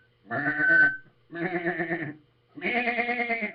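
Sheep in the fields around Stonehenge bleat three times, each call loud, close and wavering, separated by short silent pauses.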